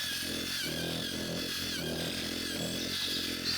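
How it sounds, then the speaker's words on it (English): A wire brush attachment on a drill strips seasoning and the top layer of iron from a 30-year-old cast iron skillet, giving a loud, continuous grinding whir that holds steady without pause. "This is a wire brush and a drill."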